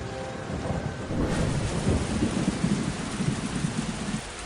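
A lightning strike in an anime story sets off loud, rolling thunder that rumbles continuously for several seconds, mixed with a steady hiss of heavy rain and no talking.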